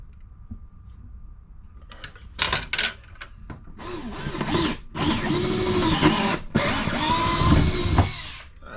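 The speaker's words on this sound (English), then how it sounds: "we're going to drill a hole right up the corner here" A power drill whirs in several bursts, drilling a hole in an RV interior corner, starting with short stuttering pulses and then running in two long, loud whines with brief pauses between them.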